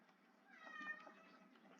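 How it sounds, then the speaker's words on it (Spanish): A domestic cat meows softly in a brief, faint cry indoors, alone and without talk. "Mi gato llora."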